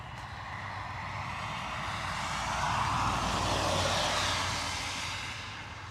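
A British Airways airliner passes at Dublin Airport, a steady broadband engine roar that swells slightly toward the middle and holds near and loud throughout, with no voices.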